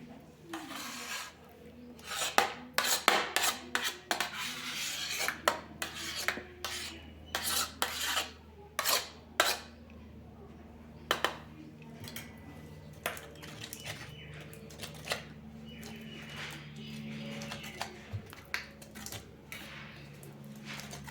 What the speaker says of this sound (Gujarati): આ રીતે આપણે મિક્સ કરતા જઈને ક્રીમ બનાવવાના છીએ।